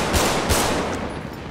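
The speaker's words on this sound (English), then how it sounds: "And then you have the Combat Pistol." Two sharp Combat Pistol shots from a FiveM video game gun sound pack crack out in quick succession, loud and close, then fade into a brief tail with no talk.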